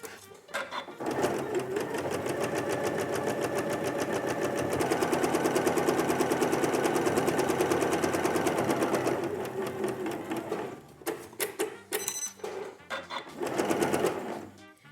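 A sewing machine stitches a quarter-inch seam on a bear claw quilt, running in a steady, loud mechanical whir for several seconds, then slowing into short, stop-start bursts.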